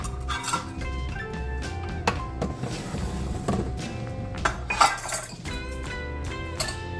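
A utensil stirs granulated sugar into peanut butter chocolate chip cookie dough in a bowl, giving close, irregular clinks and scrapes against the bowl throughout, with no talking.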